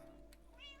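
A cat gives a single short, faint meow near the end, rising over a steady low background hum, with no talking.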